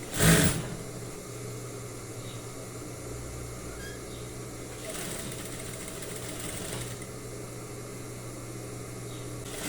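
An overlock sewing machine runs steadily on a fabric seam while making lingerie, a close, even mechanical whir with slight swells in speed and a brief louder burst at the start.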